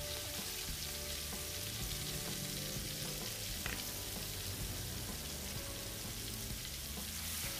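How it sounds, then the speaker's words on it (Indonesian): Ground spices with bay leaf and galangal sauté in hot oil for a tempeh and melinjo-skin stir-fry, giving a loud, continuous close sizzle with a faint stirring texture and no talk. "kita tumis bumbunya."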